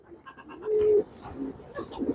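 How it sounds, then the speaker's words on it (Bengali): A pigeon coos close by in soft, low repeated phrases, with one longer drawn-out coo, no talking. "এটা একটি নর কবুতর"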